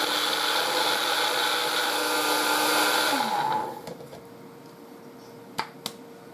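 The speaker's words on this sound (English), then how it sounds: "I'm going to move everything over to my coffee bean grinder, my Mr. Coffee bean grinder, and I'm going to grind it in there." A Mr. Coffee bean grinder whirs loudly and steadily while grinding dried kale, then winds down and cuts off partway through, leaving a quiet room with a couple of sharp clicks near the end.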